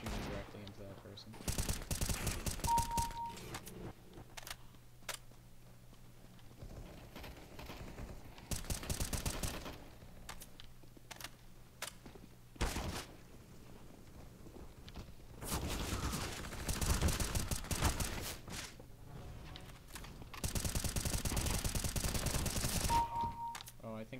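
Gunfire in CS:GO on Dust 2, with repeated loud bursts of automatic shooting separated by quieter stretches, and a voice talking faintly underneath.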